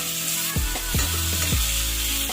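Instant puliyogare masala frying in a pan, a steady close sizzle with a few sharp scraping stirs at regular intervals, no talking.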